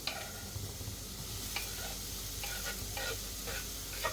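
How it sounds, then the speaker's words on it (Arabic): Onion sizzles in oil with salt in a pan, a dense steady frying hiss with occasional light utensil ticks and stirring, close by and without talk. "غادي نخلي هاد البصيله غير طيب غير في الملحه والزيت"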